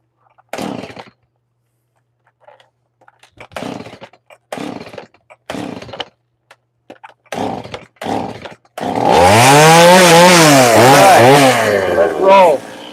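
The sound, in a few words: chainsaw carving wood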